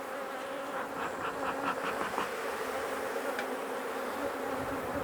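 Honey bees buzz steadily at a hive in the open, a dense continuous drone of many insects close by, with faint rising whines from individual bees passing near.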